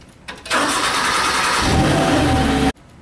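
A PowerBoss Nautilus high-dump sweeper's engine cranks briefly, then catches and runs loud and steady close by for about two seconds before cutting off abruptly.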